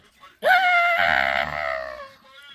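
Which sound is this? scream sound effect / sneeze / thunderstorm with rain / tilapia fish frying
scream sound effect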